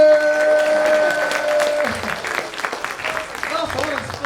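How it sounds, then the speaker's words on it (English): Concert audience applauding a college jazz band at a winter concert, a dense, steady wash of clapping that begins under a held tone and continues alone to the end. "How about a big round of applause for the band?"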